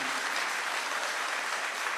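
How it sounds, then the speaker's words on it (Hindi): Loud, dense applause from a crowd at a Congress workers' meeting welcoming Rahul Gandhi, steady and sustained throughout with no break. "जोरदार तालियों से इनका स्वागत है।"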